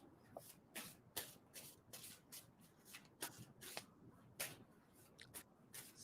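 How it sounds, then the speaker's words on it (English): A deck of playing cards is shuffled repeatedly, sharp riffling bursts recurring every half second or so, close and fairly quiet with no talk. "And tell me to stop shuffling."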